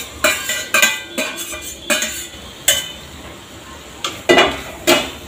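A spoon stirs sliced onion and capsicum with a little turmeric in a metal pan, giving close, irregular scraping clinks, about a dozen separate strokes with short pauses between them and no voices.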